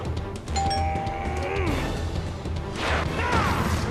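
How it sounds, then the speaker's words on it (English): A doorbell chime rings in the video game Sonic Unleashed, a sustained bell tone among busy game music and effects, with a crash-like burst partway through. "The Dark Gaia Phoenix better answer the door because the doorbell's ringing."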